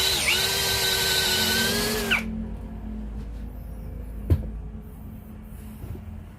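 A Kyoal KY6065 second-generation device runs at speed 1 with a loud, high motorized whine for about two seconds, then shuts off, leaving a low hum and one sharp knock.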